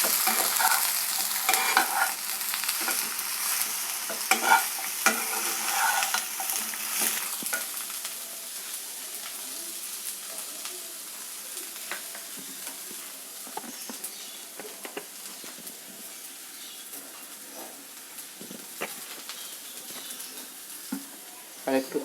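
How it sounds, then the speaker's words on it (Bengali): Eggplant pieces frying in oil in a pan, a continuous crackling sizzle that eases off gradually, with light scraping stirs and small pops throughout, close by. "বেগুনগুলো খুব ভালো করে ভাজতে হবে।"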